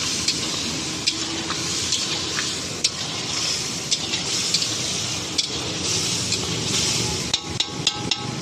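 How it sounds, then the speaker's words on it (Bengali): Spices sautéed and stirred in a hot pan sizzle steadily while a utensil scrapes and clinks against the metal at intervals, loud and close, with no voices. "একটু কষে নেব।"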